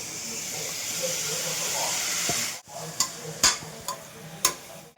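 Mutton coated in turmeric and homemade chili powder hits a hot pan for mutton curry, giving a loud, steady hiss that breaks off abruptly midway into a few scattered clinks and stirring knocks.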